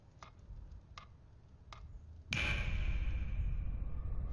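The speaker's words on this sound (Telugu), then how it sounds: "ఈ టికింగ్ శబ్దం వినపడుతుందిగా," Three slow, evenly spaced clock ticks sound in a quiet room during a Telugu film scene, then a loud, steady rushing noise abruptly swallows them.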